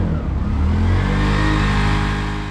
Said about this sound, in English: he's revved it a couple of times, like really revved it